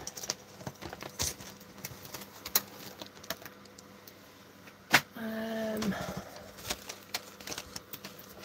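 Metal cutting dies clink and rattle as someone rummages through them for a card-making project, with sparse light taps followed by a brief cluster of jangling near the middle, faint and close.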